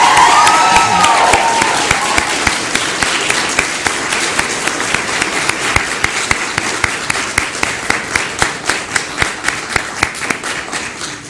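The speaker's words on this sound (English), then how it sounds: "I think that deserves a huge round of applause." Audience applause for volunteers at a blood-drive celebration event, a loud, dense sustained clapping from a large crowd that thins toward the end into sharper, more distinct individual claps.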